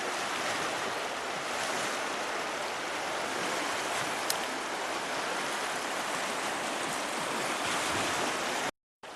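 River water flowing beside a forest path in New Zealand's North Island, a dense, continuous broadband rush that stays loud and steady throughout, with a brief dropout near the end.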